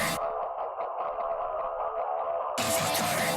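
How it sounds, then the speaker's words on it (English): Distorted, crackly static hisses over a muffled loop in a remix of a song, quiet at first, then a harsh burst of noise swells in near the end. "you can hear that static I was talking about at the beginning of the video"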